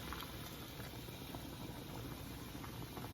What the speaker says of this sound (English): since the water was hot, it came to a boil right away